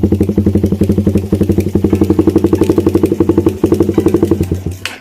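A Raider 150 street motorcycle idles loudly up close while its exhaust pops in a rapid, steady string of backfires, dozens of sharp cracks in even rhythm that fade out at the end.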